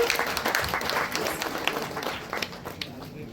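Audience applause at an award ceremony, a steady wash of many hands clapping at moderate level with no clear pauses, and some speech-like murmur mixed in.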